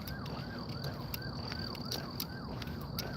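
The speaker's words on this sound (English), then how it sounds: "I hear an ambulance again." Ambulance siren on a city street, a rapid repeating wail cycling steadily and fairly loud under background traffic noise, heard during an outdoor walk.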